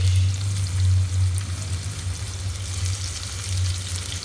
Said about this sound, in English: Our oil is nicely heated up, so we are going to fry the marinated fish